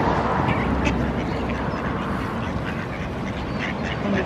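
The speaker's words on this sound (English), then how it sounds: "Sarah's feeding ducks." Ducks quacking steadily while being fed near Sandsend on the Yorkshire coast, a dense outdoor chorus of overlapping quacks over constant wind and water noise, fairly close and continuous throughout.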